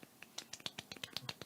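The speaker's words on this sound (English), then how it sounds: "We'll give a little golf clap" Light, sparse clapping from a small group offers a polite golf clap, a string of soft separate claps spaced unevenly and heard faintly with nothing else around them.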